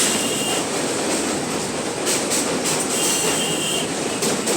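A local train running across the Vivekananda Setu rail bridge over the Ganga on the Dankuni–Sealdah line, a steady loud rumble of wheels and rail with brief metallic hiss bursts, no voices.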